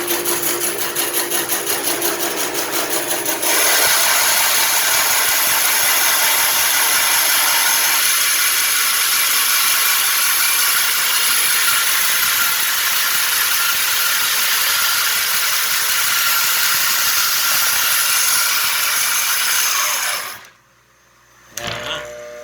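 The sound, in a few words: bandsaw resawing oak board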